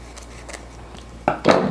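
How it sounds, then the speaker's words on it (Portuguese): A nori sheet being cut into strips for onigiri, two short crisp snips close by, the second louder, over a quiet room. "eu corto uma folha em 4, depois em 4 e novamente ao meio"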